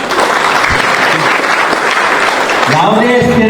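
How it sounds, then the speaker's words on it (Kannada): Loud audience clapping at a monastery ceremony installing a new pontiff, a dense burst of applause with a voice speaking over it toward the end. "ನೀವೆಲ್ಲ ಚಪ್ಪಾಳೆ ತಟ್ಟರೆ."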